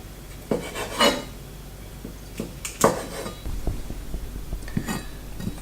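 A knife cuts cooked octopus legs on a board, making a handful of irregular knocks and clinks with soft scraping between them. The sounds are close and moderately loud, with no voices.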